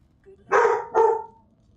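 A dog barks twice indoors, two close, fairly loud barks in quick succession with faint background noise.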